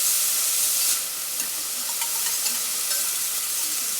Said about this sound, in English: And I'm just going to saute these vegetables